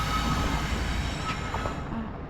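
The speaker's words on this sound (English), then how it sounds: "we have a train coming." A CSX train led by engine 3397 rolls past outdoors, a steady low rumble of wheels on rail with faint high squeals, close and unbroken.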